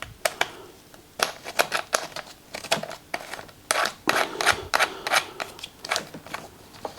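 A brass hose fitting is screwed hand tight onto the trigger gun of a V-Tuf V5 pressure washer, heard as close, irregular clicks and plastic rattles through a few seconds of handling.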